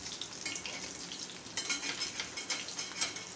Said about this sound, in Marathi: असे थोडे मंद आचेवर तळायचे म्हणजे छान असे तळल्या जातात